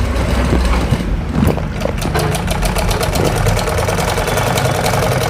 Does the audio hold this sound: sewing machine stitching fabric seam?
yes